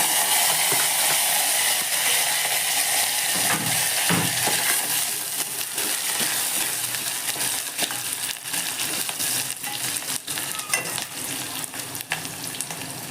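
Onion and curry leaves fry in hot oil for sambar, a loud, dense sizzle stirred now and then with scraping clicks, easing slightly toward the end.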